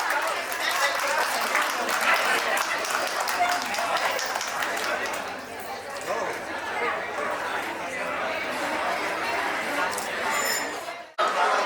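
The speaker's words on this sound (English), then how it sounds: "Big round of applause for Saxena ma'am." Applause and crowd chatter fill a hall at a school alumni meet, a dense steady wash of clapping mixed with voices that runs throughout before cutting off abruptly near the end.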